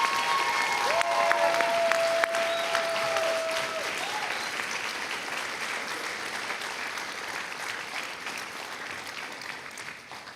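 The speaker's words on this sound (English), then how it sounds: "Let's give a good round of applause as a thank you to these students" Sustained applause from a large audience at a school orchestra pop concert, steady and dense clapping that carries for about ten seconds before easing slightly near the end.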